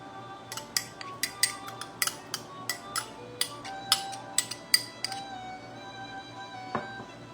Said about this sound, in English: I'm just going to take a fork and just mix that up